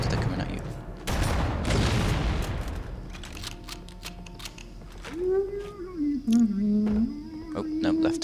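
Video game combat in Halo CE Anniversary opens with a burst of rapid gunfire and explosive blasts, followed by scattered sharp shots and clicks while someone speaks over the action.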